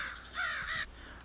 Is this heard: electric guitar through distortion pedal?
no